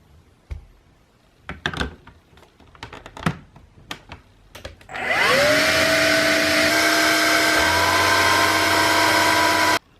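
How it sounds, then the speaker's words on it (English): A Vax cordless cylinder vacuum cleaner starts up after a few seconds of scattered knocks and clicks, then runs loud and steady at close range with a high whine, shifting to a deeper tone near the end before cutting off. "now this can be used as a separate cylinder cordless vacuum cleaner"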